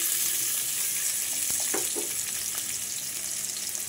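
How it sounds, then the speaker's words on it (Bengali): Sliced onions frying in a pan of oil for a chicken curry, a steady close sizzle with a few soft stirring scrapes partway through. "তেল আর পেঁয়াজ দিয়ে পেঁয়াজটাকে লাল লাল করে একটু বাদামি কালার করে ভেজে নিব।"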